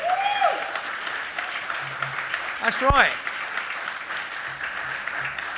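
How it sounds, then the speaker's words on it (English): Applause from a crowd in a council chamber during an annual council meeting, a steady clatter of clapping that runs throughout, with a spoken voice over it and a sharp chirp near the middle. "It's not mandatory to applause on this side."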